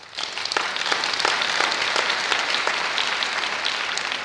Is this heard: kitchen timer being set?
no